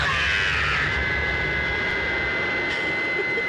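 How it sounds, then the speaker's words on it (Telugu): A passenger jet flying from Vijayawada lands at Hyderabad airport, its engines a steady, loud, broadband roar heard from inside the cabin, with a faint high whine running through it and no talking. "మన ఫ్లైట్ ల్యాండ్ అవుతుంది"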